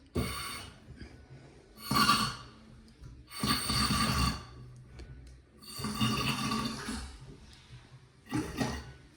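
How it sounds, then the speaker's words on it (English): Water rushes in repeated surging bursts through newly fitted bathroom plumbing during a first-fix renovation test, each gush lasting a second or so with quiet gaps between. "water's back on, so we can give this a little test"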